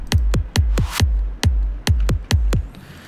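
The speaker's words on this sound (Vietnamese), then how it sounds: "tiếp theo là cái tiếng punchy kick này, mình cho nó pan trái phải một tí" A punchy electronic kick drum for a Vinahouse track in FL Studio, panned left and right, strikes about nine times in an uneven pattern, each hit deep and booming with a quick decay, alone with no voices.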